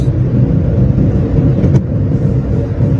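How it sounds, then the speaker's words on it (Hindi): A manual car's engine drones at a steady low rumble while accelerating in second gear at about 50 km/h, loud and close, with no voices over it. "अभी मैं दूसरे गियर पे हूँ, मुझे थोड़ा सा स्पीड अप होने दें।"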